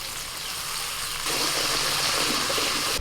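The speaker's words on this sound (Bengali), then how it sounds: "সামান্য একটু জল দিচ্ছি" A little water poured into ground coriander, cumin and salt in a hot pan over a fire, giving a steady hissing sizzle that swells louder partway through, close by with no talking.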